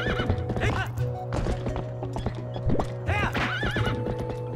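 Epona, Link's horse in Zelda: Twilight Princess, whinnies loudly while her hooves clip-clop steadily beneath, close and clear over game music.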